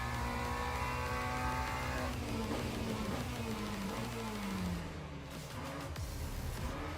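A race car engine in the sim racing game Le Mans Ultimate drones steadily at moderate level, pitch sweeping down through gear changes and braking, then thinning out before rising again.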